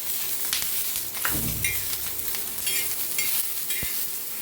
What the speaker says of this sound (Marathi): आपण लसूण अद्रक चिरतून घेतलेलं ते टाकलेलं थोडंसं कोथांबीर छान असं हलवून घेऊया